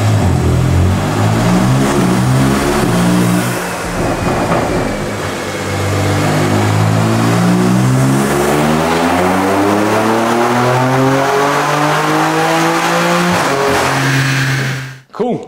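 A tuned BMW G80 M3 with a stage one upgrade revs hard on a dyno, its loud engine climbing through repeated gear-like pitch sweeps, droning steadily for about fifteen seconds before cutting off abruptly.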